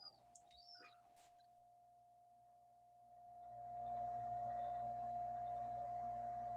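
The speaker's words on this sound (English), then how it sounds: "excuse the seagulls in the background there" Seagulls call faintly in the distance, with a few short cries at the start, followed by a steady electronic hum that swells and holds to the end.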